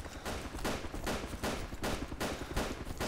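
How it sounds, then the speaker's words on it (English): Gunfire rattles in DayZ as repeated bursts of shots at an even rhythm, fairly distant and moderately loud, with no talk over it. "Shit ton of shooting going on there"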